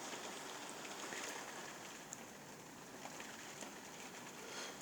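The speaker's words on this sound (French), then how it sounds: "la pluie vient du sud, justement" Rain driven by a violent south-east windstorm with gusts near 100 km/h in Carpentras, Vaucluse, heard from behind a window as a steady dense hiss with scattered drop taps, distant and fairly quiet.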